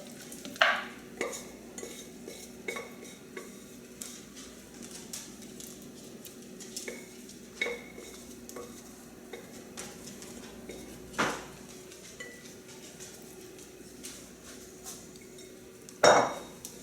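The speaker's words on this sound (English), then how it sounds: "we put the raw marinated meat at the bottom of this pan" Raw marinated goat meat goes into a big cold pan with scattered clinks and scrapes of a utensil against metal, a few sharper knocks standing out. Between the hits there is a quiet background hum.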